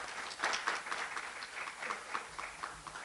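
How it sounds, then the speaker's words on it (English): An audience applauds a corporate sponsor, a utility company, at a business sustainability event: steady, fairly quiet clapping from a crowd, continuous for a few seconds with no clear peak. "Let's give Con Edison a round of applause."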